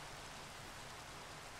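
Steady rain in the video game Minecraft, a dense, even hiss of falling drops that holds at a constant level with no talk.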